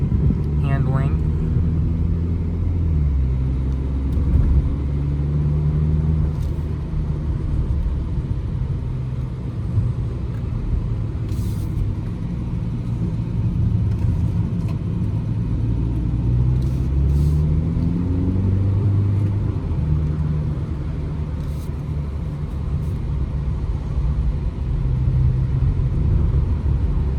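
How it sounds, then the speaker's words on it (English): A 2024 BMW 228i Gran Coupe accelerating on the road, heard as a steady engine rumble and rising drone from inside the car, with tire and road noise and a voice talking over it throughout. "here is the acceleration of the vehicle"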